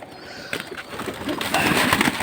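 Soft, low cooing of domestic pigeons against faint background noise, a few overlapping murmuring calls that grow slightly fuller toward the end.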